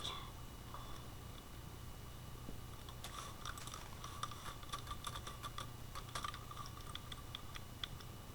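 Computer keyboard keys tapped during a Minecraft survival session, a faint, quick run of irregular clicks starting partway through over a steady low hum, with no talking.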